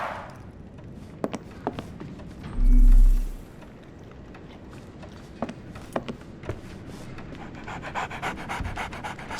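A dog pants in the Sherlock Holmes The Awakened video game, steady close breathing over quiet background, with one louder low thump partway through.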